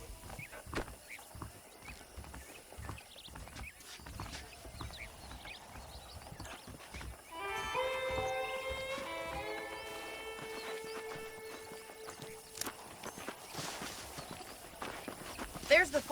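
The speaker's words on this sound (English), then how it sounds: "The horses are saddled up over here." Saddled horses clip-clopping in Red Dead Redemption on PC, a soft steady patter of hooves with a sustained tonal swell midway, quiet and mixed beneath occasional game sounds.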